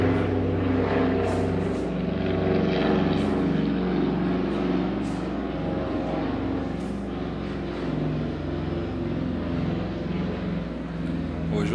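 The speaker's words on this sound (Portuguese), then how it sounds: "Hoje o avião está esticando o passeio." An airplane flies overhead with a sustained, droning propeller-like engine hum that stays loud and steady throughout, with faint talk beneath it.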